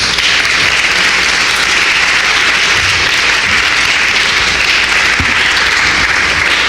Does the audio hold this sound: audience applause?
yes